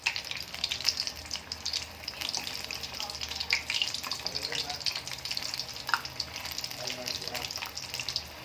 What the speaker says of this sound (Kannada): ಗೋಲ್ಡನ್ ಬ್ರೌನ್ ಬರೋ ಮಟನೂ ಚೆಂದಾಗಿ ಫ್ರೈ ಮಾಡ್ಕೋಬೇಕು